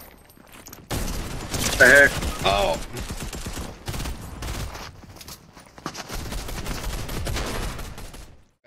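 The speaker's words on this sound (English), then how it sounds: "They're shooting up here. They're shooting down there." Rapid video game gunfire crackles in dense volleys from several directions, loud and close, while a player talks over the shooting.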